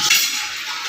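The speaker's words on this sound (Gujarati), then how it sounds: "તપેલો ભરવા નળ ચાલુ કરી દીધો" A kitchen water tap runs into a metal cooking pot during rain, making a steady close broadband hiss of flowing water that fades slightly toward the end.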